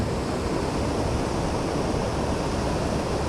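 River waves run against the current in a steady broadband rush with no pauses, close and fairly loud, and no voices.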